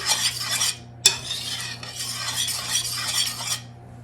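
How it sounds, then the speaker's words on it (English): A utensil scrapes and swirls around a pot of homemade natural red dye heating on the stove, in repeated bursts of stirring broken by a sharp clink and brief pauses over a low steady hum. "Stir along the way so it don't burn."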